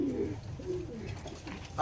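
Flying pigeons kept for performance give low, muffled cooing, faint and murmuring over a short stretch, with a voice-like sound mixed in.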